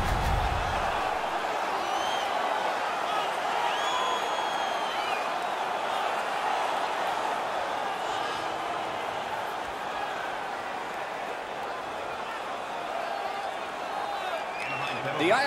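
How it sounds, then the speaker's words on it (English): A steady arena crowd roar from an NHL 19 hockey game between the New York Islanders and Anaheim Ducks, loud and sustained throughout, with cheering and whoops layered under broadcast-style commentary. "The crowd is now back in it."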